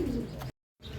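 Racing pigeons coo softly at close range in a loft after a training flight, the low murmuring broken by a short moment of silence before it resumes.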